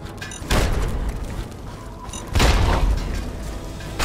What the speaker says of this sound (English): Frag mines. That's what I got.